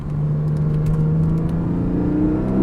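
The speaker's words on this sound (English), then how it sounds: "Yep, perfect downshift, look at that." A Porsche 718 Boxster 25 Years engine drones steadily at close range and rises through a smooth rev-matched downshift, swelling slightly louder at the end.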